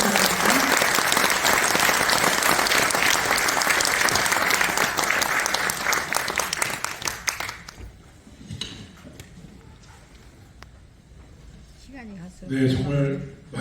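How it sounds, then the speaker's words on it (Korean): A large audience bursts into loud, dense applause welcoming a politician to the podium for a hometown lecture in Jangseong, sustained for about seven seconds before fading to scattered claps, shuffling and a brief voice near the end. "큰 박수로 환영해 주시기 바랍니다"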